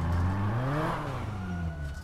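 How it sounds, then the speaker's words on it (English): A loud car engine revving in GTA V, a short rising then falling engine roar with strong low harmonic tones, close and continuous. "This car is obnoxiously fucking loud."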